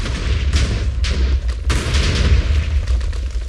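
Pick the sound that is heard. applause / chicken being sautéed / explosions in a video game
explosions in a video game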